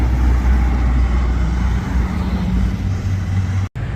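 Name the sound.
Ferrari Portofino convertible arriving, top down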